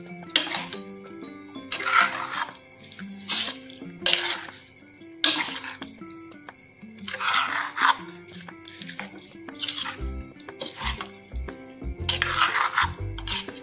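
A spoon scrapes and stirs pumpkin erissery curry in a pot in repeated strokes about once a second, over steady background music with no talking.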